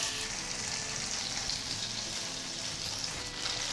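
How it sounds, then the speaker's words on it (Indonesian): Tofu frying in a pan of hot oil, a steady, close crackling sizzle that holds evenly throughout with no voices. "Kemudian panaskan minyak secukupnya lalu goreng tahu."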